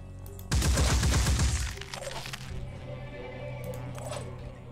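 Turrets firing in the Phoenix Point strategy game: a dense, loud burst of rapid cracking gunfire for about a second, then a quieter rumbling tail with scattered faint impacts and game ambience, no talk.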